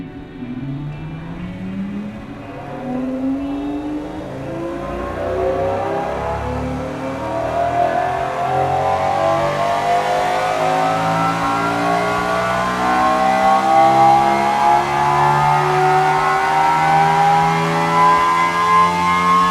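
A video game car engine revs up to 12,000 rpm, its rising whine climbing steadily and loudly over about twenty seconds with no talk.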